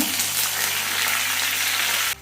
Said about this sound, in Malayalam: അപ്പോൾ കടുക് പൊട്ടി തുടങ്ങിയിട്ടുണ്ട്